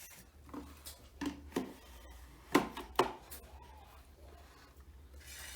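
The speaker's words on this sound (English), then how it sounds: "let us chop our peels into small pieces because you're going to boil them first" Pineapple peels chopped into small pieces on a board, a few sharp knife strikes, two louder near the middle, in a quiet kitchen.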